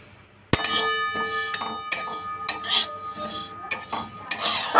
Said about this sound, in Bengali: প্রথমে তেলটাকে একটু শুকনো কড়াইতে ড্রাই রোস্ট করে নেব